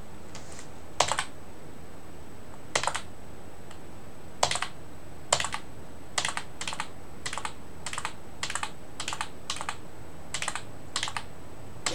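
Typing on a computer keyboard, a sparse run of separate sharp key clicks at uneven intervals, close and fairly quiet against a faint steady background hum, with no voices.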